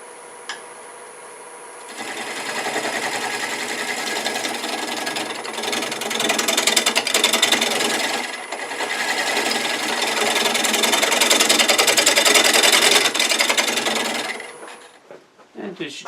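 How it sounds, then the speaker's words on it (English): Small bowl gouge flattening a wooden medallion ornament plate on a lathe, a loud, steady rasping cut held for about twelve seconds over the whir of the spinning wood, then trailing off. "So I'm going to get a small bowl gouge"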